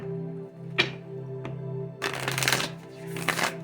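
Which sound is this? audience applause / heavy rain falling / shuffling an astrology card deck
shuffling an astrology card deck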